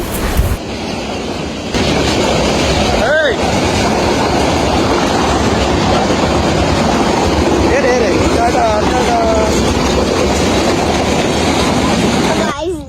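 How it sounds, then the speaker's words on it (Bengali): A train rumbles past close by at the Sreemangal tea gardens with a continuous loud roar and rattling wheels, a horn sounding briefly near the start and again at the end. "তারপরে ট্রেনের আওয়াজ পেলাম"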